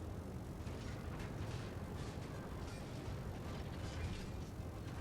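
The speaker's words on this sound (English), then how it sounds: "I'm going to go ahead and swing my front turrets around." USS Texas battleship front turrets swinging around in World of Warships, a steady, dense mechanical rumble and grinding hum that holds at an even level throughout, heavy and continuous with no talk.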